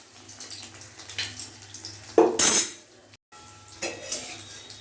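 A metal utensil scrapes and clatters in a frying pan as fritters are flipped, with one louder sizzling burst in the middle over a soft background of frying.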